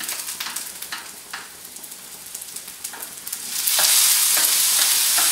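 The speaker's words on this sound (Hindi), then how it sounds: "टमाटर और मिर्च डाल देंगे।" Tomatoes and chillies go into browned onions in a pan for matar paneer, with soft stirring scrapes first, then a loud, steady sizzle as they hit the hot oil, close up and with no voices.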